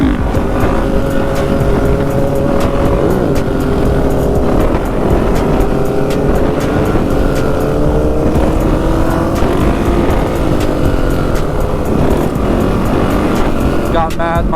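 A dirt bike engine revs hard and steadily through a wheelie on Chicago streets, loud and continuous with rising and falling pitch, other engine noise around it and some voice in the background.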